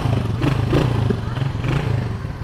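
A Honda Win 100 motorcycle engine running after starting, a steady low close rumble with a rapid throbbing beat and mechanical clatter, loud and continuous with no talking.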